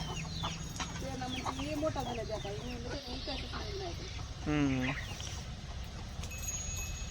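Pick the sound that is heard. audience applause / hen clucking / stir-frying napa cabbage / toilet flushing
hen clucking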